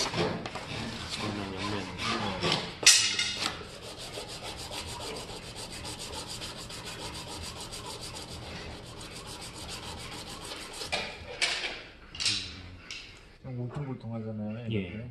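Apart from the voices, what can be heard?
hand plane part being rubbed on sandpaper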